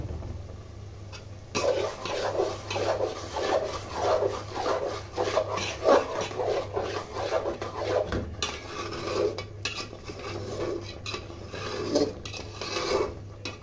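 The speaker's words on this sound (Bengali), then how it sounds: "সুন্দর করে আরেকটুখানি নেড়ে চেড়ে আমরা নামিয়ে নেব" Mango pickle stirred in a pan after a splash of vinegar, giving steady close scraping and rubbing of a spoon against the pan in repeated strokes, with brief pauses between bursts of stirring.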